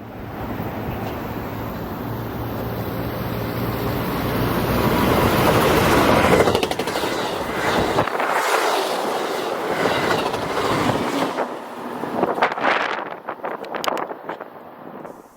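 Amtrak train 1785 rolls past in North County San Diego, a loud, close rush of wheels and clattering cars that builds, peaks mid-pass and then breaks into rhythmic clickety-clack as it recedes, with no talking.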